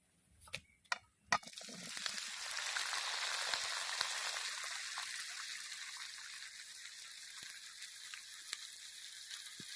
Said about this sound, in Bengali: তেল গরম হয়ে গেছে, এবার বড়াল ফল দিয়ে দেব।